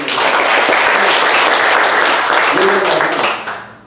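Warm, sustained applause from a church congregation fills the room, loud and steady throughout before tapering off at the end, with a few voices mixed in.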